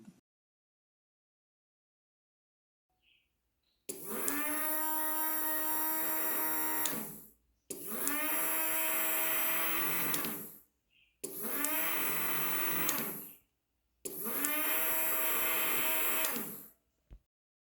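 A small DC motor wired through a relay and push button runs in four separate bursts of about three seconds each, a loud steady whir that starts and stops abruptly, with short silent gaps between.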